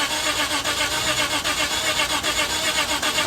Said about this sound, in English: I'm really surprised it's not starting right now.